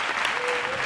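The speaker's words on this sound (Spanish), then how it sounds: "un fuerte aplauso para ti y para toda esa buena organización" Brief burst of studio audience applause on a Spanish TV game show, dense and steady clapping from a large crowd throughout the short moment.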